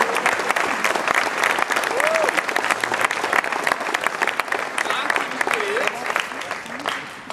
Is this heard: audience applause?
yes